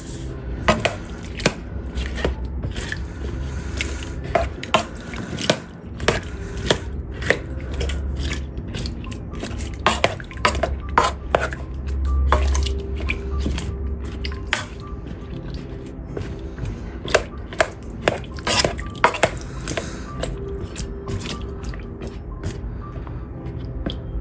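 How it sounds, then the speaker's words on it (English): A metal spoon stirs ham and potato soup ingredients in a pot, giving repeated clinks and scrapes at an uneven rhythm, close and fairly loud, with no talking. "We're going to get it to simmer with a spoon. Stir all the ingredients together."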